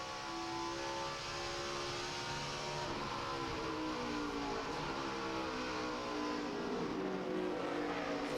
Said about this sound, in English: You can hear him inside there, really working the throttle, shifting